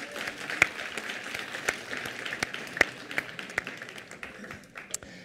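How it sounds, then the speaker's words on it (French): Audience applause for the jurors at a staged mock trial, a fairly faint, steady patter of many hands with a few sharper individual claps standing out, fading slightly toward the end. "Yanni et Paul, qu'on peut aussi applaudir pour leur courage."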